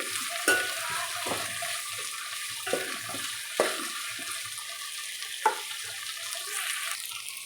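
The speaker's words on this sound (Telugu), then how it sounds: "పొటాటోను క్యారెట్ వేసుకొని మగ్గించుకోవాలి" Potato and carrot pieces sautéing in a pan for tomato rice, a steady hiss of cooking with occasional scraping and stirring clatters spaced a second or so apart, moderately quiet and without talk.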